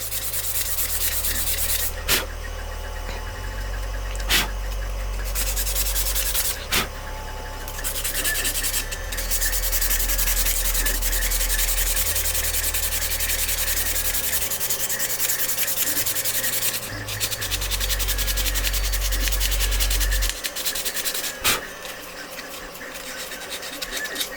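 Sanding the white painted parts of a Cyberpunk Arasaka thermal katana prop, heard as a steady, close, rhythmic rubbing rasp lasting throughout, broken by a few sharp taps and brief pauses.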